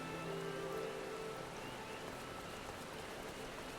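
Steady, dense rain falls at night in the video game Final Fantasy XIV, an even, close wash of patter with no voices throughout.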